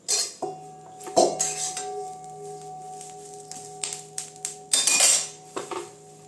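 Neem leaves stirred in a dry wok on low heat: sharp metallic scrapes and clinks of a spatula against the pan come in irregular bursts, close and clear, with quiet gaps between strokes.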